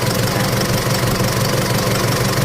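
A 2005–06 Isuzu D-Max diesel engine idles close by, a loud, steady, rough knocking rumble that continues without a break and without any voices.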